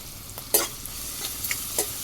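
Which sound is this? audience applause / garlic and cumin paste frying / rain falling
garlic and cumin paste frying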